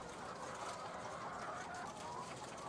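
Hens cluck and murmur in a dense, steady chorus inside a California commercial egg farm in the Central Valley, a continuous faint flock din with no single bird standing out.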